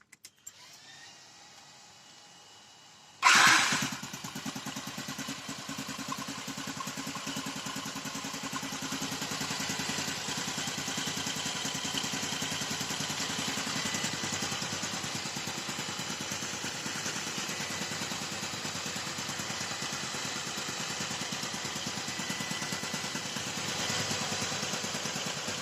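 A Yamaha LC135 motorcycle engine fires up abruptly after a few seconds of near silence, then settles into a steady, fairly quiet idle that runs on alone, following a top-end overhaul.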